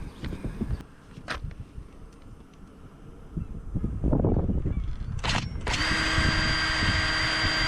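Power drill boring 9.5 mm holes through a varnished wooden boat cabin top, heard as a few bursts of close whining drilling with pauses between them, ending in a sustained high-pitched run.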